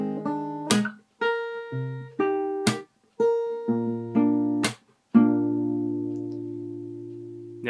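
Fingerstyle guitar plays part of the verse of a song, with plucked bass notes, chords on three strings and percussive slaps, ending on a long ringing chord, heard close and alone.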